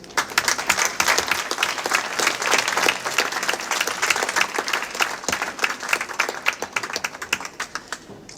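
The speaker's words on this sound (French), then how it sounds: "je pense qu'on peut aussi les applaudir" An audience claps steadily, many sharp hand claps blending into a lively, sustained round of applause that thins out slightly toward the end.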